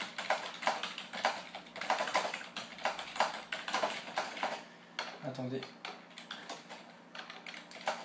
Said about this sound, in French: Excusez-moi si vous entendez beaucoup le bruit du clavier